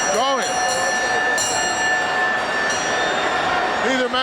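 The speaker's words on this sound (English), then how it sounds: "Bell keeps ringing and they keep going." At a 1984 WWE wrestling event at Madison Square Garden, the ring bell clangs repeatedly beneath crowd noise and a commentator talking.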